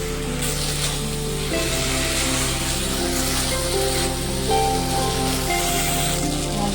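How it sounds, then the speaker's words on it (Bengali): A ginger and onion paste with Kashmiri chili powder fries for a tengra fish curry, giving off a steady, close sizzle and crackle throughout while it is stirred. "কিছুটা কাশ্মীরি লঙ্কার গুঁড়ো দিয়ে ভালোভাবে নেড়ে দেব।"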